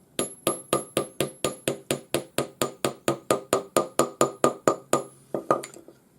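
Jeweler's hammer beating along a length of square pearl peg wire, about twenty sharp metallic strikes in a fast, steady rhythm, close and clear with no talk.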